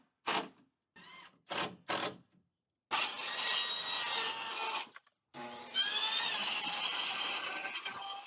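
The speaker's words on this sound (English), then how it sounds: "I'm cutting the sheeting now because it's just easier to do it while the whole thing here is sitting on the ground" Handsaw cutting plywood sheeting for a kitchen bump-out addition framed on the ground, heard first as a few short separate strokes, then as long steady rasping runs, close and loud.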